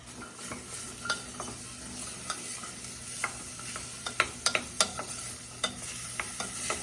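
Vegetables including carrots fry in a pot for soup under a steady sizzle, while a utensil stirs and scrapes against the pot in scattered, sharp clinks close by.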